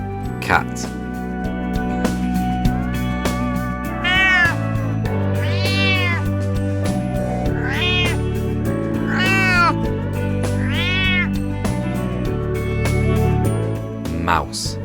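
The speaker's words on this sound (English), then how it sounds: "cat." A cat meowing repeatedly in loud, drawn-out rising and falling cries, close up, over a steady music bed.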